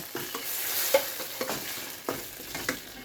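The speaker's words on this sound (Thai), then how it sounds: "น้ำมันร้อนแล้วใส่เครื่องผัดกะเพราเลยค่ะ" Holy basil paste stir-fried in hot oil in a home kitchen, a meatless dish with winged beans, giving a steady low sizzle broken by scraping stirs and occasional louder clacks of a utensil against the pan.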